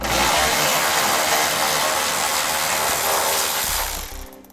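A power tool drives out an emergency brake cable bracket screw underneath a 2012 Ram 2500, a loud, close, continuous whirring buzz that runs for about four seconds before winding down and stopping.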